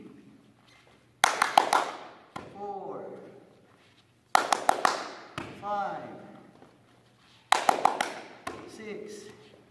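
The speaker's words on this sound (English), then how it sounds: "throwing and catching with 3 claps" A child-fitness drill in a second-grade PE lesson: three bursts of sharp hand claps, each quick cluster followed by a softer thump of a ball being caught, repeated three times with a short pause between rounds.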